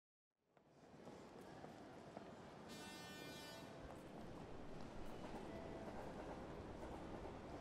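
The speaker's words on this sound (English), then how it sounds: "You are at a train station where you're attempting to buy an intercity ticket from a ticket machine." A train passing through a station, a steady loud rumble and rail clatter rising quickly from silence, with a brief bright horn-like tone partway through and a continuous roar to the end.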